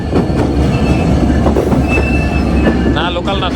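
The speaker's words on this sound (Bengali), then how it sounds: "খুবই স্লোলি আসছে, লোকাল ট্রেন মেবি।" A local train rolls slowly past at close range, a loud steady rumble of wheels on rail with a rattling carriage clatter, ending in a high metallic squeal of wheels.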